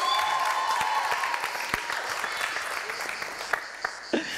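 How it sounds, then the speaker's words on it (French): Studio audience on a televised quiz show clapping, a dense burst of applause that starts loud and gradually thins out, with a few scattered claps at the end. "les femmes peuvent applaudir pour elle quand même"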